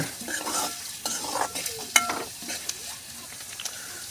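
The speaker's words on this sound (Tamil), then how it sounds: "அந்த எண்ணெயிலேயே நல்லா வதக்கி விட்டுடலாங்க வெங்காயம் நல்லா வதங்கட்டுங்க" Onions and green chillies stir-fried in oil for an egg poriyal, with a steady sizzle, scraping spoon strokes throughout and one sharp clink of metal near the middle; no one speaks.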